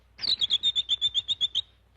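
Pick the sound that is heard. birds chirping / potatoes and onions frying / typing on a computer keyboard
birds chirping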